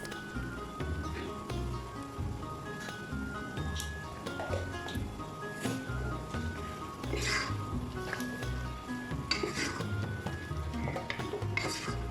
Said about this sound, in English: I have added 2 large onions, finely chopped, and frying it in the oil